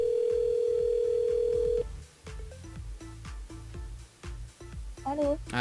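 A telephone line tone plays as a radio phone-in call is placed: a loud, steady tone holds for about two seconds, then gives way to shorter beeps over a thumping music beat.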